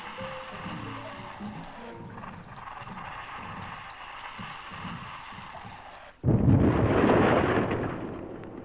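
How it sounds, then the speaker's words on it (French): Blasting charge set off in a coticule whetstone quarry at Bihain and Sart-Lierneux in 1971: a sudden deep roaring boom erupts after a stretch of quiet rumbling background, then rolls on loudly for a couple of seconds before easing. "Il faut alors attendre que se dissipe la poussière et la fumée de l'explosion."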